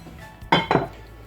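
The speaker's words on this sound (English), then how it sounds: "So now I'm going to add the butter, sugar, salt, and the baking powder" Ingredients including butter, sugar, salt and baking powder are tipped into a mixing bowl for a vegetable cheese pie, making two close clinking, clattering bursts in quick succession.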